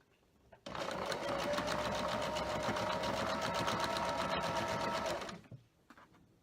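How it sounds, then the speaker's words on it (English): A sewing machine runs steadily for about five seconds while piecing a star quilt block, a dense, continuous mechanical whir that starts abruptly and stops cleanly, close and loud, with no talk over it. "So I am just going to keep sewing here and get this block together."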